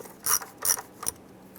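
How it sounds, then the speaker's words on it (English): An 8mm socket ratchet loosens a hose clamp in the engine bay of a 2002-2008 Dodge RAM, giving three short rasping clicks spaced evenly apart, close and crisp against a quiet background. "Using our 8mm socket, we're going to go ahead and loosen the hose clamp here."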